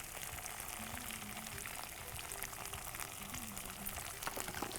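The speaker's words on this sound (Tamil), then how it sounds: "இதை போட்டு நல்லா முக்கால் பாகம் வதக்கலாம்." Onions frying in oil with whole spices such as cinnamon, bay leaf, cloves, cardamom, fennel, curry leaves, mint and coriander, giving a steady, soft, continuous sizzle throughout with no voices.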